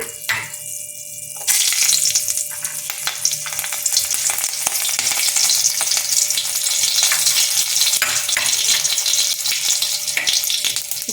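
Two green chillies dropped into hot oil for Bengali katapona fish curry with mustard and poppy seeds: after a brief quiet moment, a loud sudden sizzle bursts up and keeps crackling steadily with stirring, no voices.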